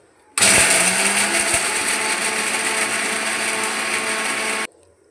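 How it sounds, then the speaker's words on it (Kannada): A mixer grinder grinding peanuts coarsely whirs loudly for about four seconds, a harsh buzzing grind that starts abruptly and stops just as suddenly. "ಈಗ ಕಡಲೆ ಬೀಜನ ಮಿಕ್ಸಿ ಮಾಡ್ಕೊಳ್ಳೋಣ"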